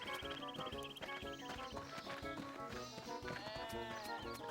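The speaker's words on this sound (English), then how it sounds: "Got distracted by sheeps." Faint sheep bleats sound among layered game music and effects from RuneScape, with several short wavering cries repeating over the busy background.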